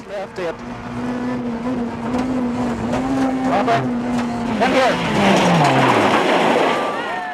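Formula 2 Nissan Sunny rally car at speed on a rally stage, engine note falling as it brakes hard into a corner with tire scrub and gravel noise, under a commentator's voice.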